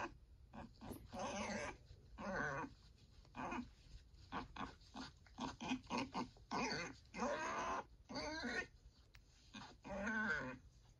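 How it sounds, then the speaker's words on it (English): A pig grunts and snorts in a series of short, rough bursts of varying length, irregularly spaced with brief gaps, close and fairly loud. "Pig."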